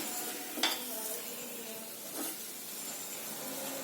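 Fresh green turmeric cooks in a pan as a vegetable dish, giving a quiet, steady sizzle while a spoon scrapes and stirs twice.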